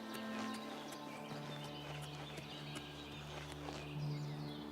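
Horse hooves clip-clop at a steady walking pace in the Oblivion Remaster video game, moderately close amid layered ambient game music and faint bird calls, with no talking over them.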